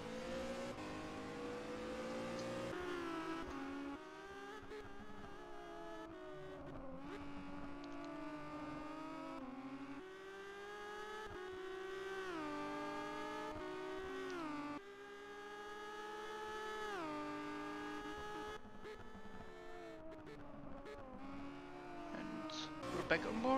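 Renault Megane race car at Long Beach sliding through corners, its engine note rising and falling through gear changes across the lap, loud and continuous under a commentator's voice.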